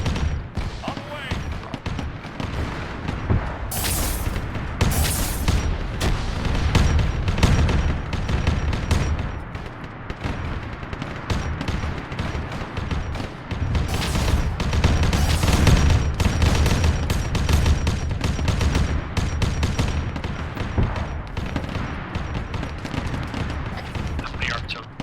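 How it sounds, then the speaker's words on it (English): Artillery fire in the video game Arma 3 during a Zeus op with Rhino and Vindicator vehicles: a constant rumble of battle with repeated heavy blasts and bursts of gunfire, and people talking over it throughout. "The artillery."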